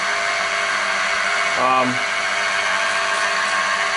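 A milling machine cuts with a Chinese 16mm two-flute indexable end mill at about 1,000 RPM, giving a steady, loud, close high-pitched whine with a brief chattering tone near the middle.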